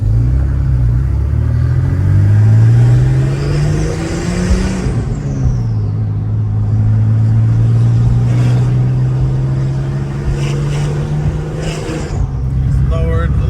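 A 1991 Porsche 964 C2 Turbo with a larger turbo, headers and aftermarket exhaust idles and revs as it warms up, its engine note rising and falling in a loud, close, continuous drone.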